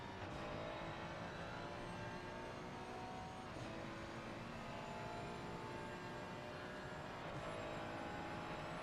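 A Ferrari GT3 race car in a racing video game holds a faint, steady high engine whine with a thin layer of hiss, continuous and unbroken with no voices.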